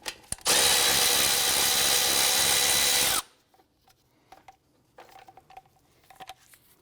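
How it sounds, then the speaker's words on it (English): A power tool spins out two 10mm bolts on the side of a 2004-2008 Acura TL front knuckle, in one loud continuous whir lasting about three seconds, followed by faint clinks of handling. "We're going to remove these two 10mm bolts right here on the side of the knuckle."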